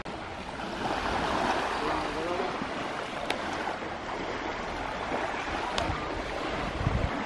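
Surf washes steadily at White Beach in Panglao, Bohol, Philippines, a constant broad roar of waves mixed with wind, fairly faint and without a break.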